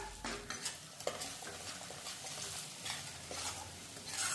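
Spices sautéing in hot oil after soft tomatoes, with a close, busy sizzle and repeated spoon scrapes and stirring clatters throughout, no voices.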